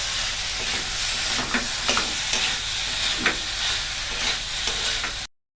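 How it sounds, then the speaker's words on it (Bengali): Banana flower frying and being stir-fried dry in a pan: a steady broad sizzle runs throughout, broken by several sharp scrapes and clacks of the spatula against the pan, ending abruptly. "মোচাটা ভাজা হয়ে গেল শুকনো করে"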